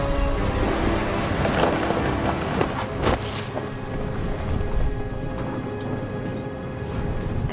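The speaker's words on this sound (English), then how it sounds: "The thunder sounded much too close and full of angry power." Heavy rain and wind roar steadily through a thunderstorm in the game What Remains of Edith Finch, with a few low rumbles and cracks of thunder rising out of the dense wash.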